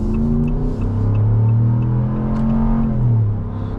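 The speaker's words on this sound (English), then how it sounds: "Kind of holds revs a little longer." A 2026 Ram 1500 Laramie pickup's HEMI V8 revs in sport mode with traction control off, a deep throaty engine note rising and falling in two swells and holding revs, loud and close with no talk.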